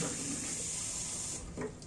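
Tap water runs steadily from a kitchen faucet while preparing water for rolling meatballs, a constant faint hiss with a brief splash near the end.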